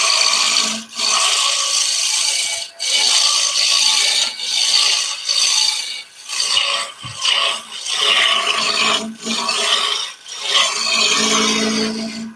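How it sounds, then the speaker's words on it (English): Wood turning on a lathe with a roughing gouge while shaping a wooden spatula: loud, steady scraping and shearing cuts in repeated strokes, each ending in a brief dip, with no talking. "that's why I'm sticking with the rough and gouge"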